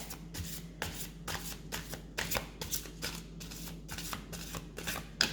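A deck of cards is riffled in repeated quick bursts, a steady rhythm of crisp flutters close up, with no voices.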